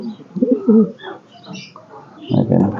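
Domestic pigeons coo in a nesting loft, several soft, throaty, rolling calls close by, pausing briefly before another pigeon joins in.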